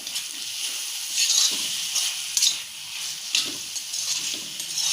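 Paneer roll filling being stir-fried in a pan, a steady bright sizzle with repeated scraping stirs of the spatula at a close, moderate level, no voices.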